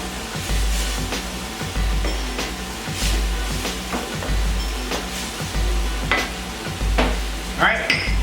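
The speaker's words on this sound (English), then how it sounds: "let this saute up" Onions and garlic seasoned with salt and pepper sauté in a pan, a close steady sizzle broken by rhythmic stirring scrapes and clicks of a utensil, with no voices over it.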